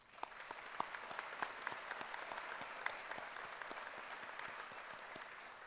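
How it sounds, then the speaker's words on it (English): A college graduation audience at St. Johns River State College applauds steadily. The clapping sounds fairly distant and soft, and individual sharp claps stand out from the continuous patter. "Let's take a moment to recognize and applaud their remarkable"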